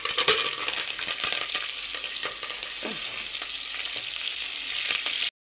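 Curry leaves, bay leaf, kasuri methi and whole chillies sizzle and crackle steadily in hot ghee in a pressure cooker, a dense close frying hiss with scattered pops throughout and no talking.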